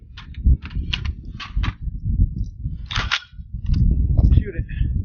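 An AR-15 rifle fitted with a FailZero EXO nickel boron coated bolt carrier group, deliberately fouled with mud for an outdoor field test, fires a quick string of sharp reports followed by a single later shot, with voices talking throughout.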